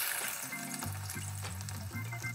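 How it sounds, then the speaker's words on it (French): Small onions sizzle steadily as they fry in a pan, with a low hum underneath and a few light stirring knocks. No one speaks. "ces petits oignons frits, on va les mélanger constamment pour pas qu'ils collent entre eux"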